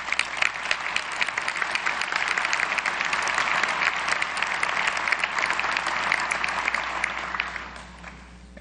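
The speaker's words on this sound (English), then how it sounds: "they truly deserve the greatest applause" Applause fills a New Jersey General Assembly chamber during its organization session, a dense sustained clapping from a large crowd that runs steady for most of the stretch and thins out near the end.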